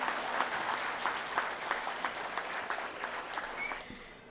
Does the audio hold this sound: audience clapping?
yes